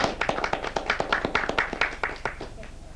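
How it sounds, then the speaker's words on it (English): A small club audience at a Toastmasters meeting claps, a round of sharp, fairly close hand claps in an irregular patter that holds for about two and a half seconds and then tails off. "Give yourselves a round of applause."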